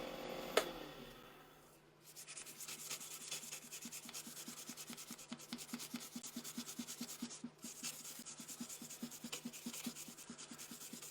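Sandpaper rubbed back and forth over a turned wood and copper fountain pen. A steady, close, fast rhythmic scratching with brief pauses runs throughout and starts after a short knock.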